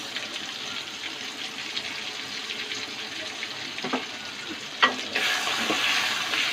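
Garlic, mustard and ginger paste sizzles in a hot pan, a steady close frying hiss with a couple of scraping stir knocks near the end before the sizzle swells louder.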